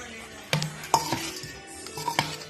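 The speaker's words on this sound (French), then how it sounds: "Vous voyez comment nous mélangeons" A spoon knocks and scrapes against a metal pot while stirring liboke ya ngulu with spices, with a few distinct clinks spread over a couple of seconds, close and fairly quiet.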